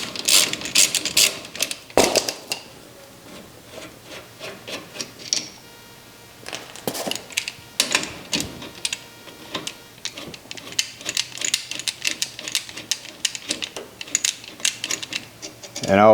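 A ratchet works on brake caliper bolts during a brake pad job, quick clicking bursts in short runs with pauses, close and fairly quiet.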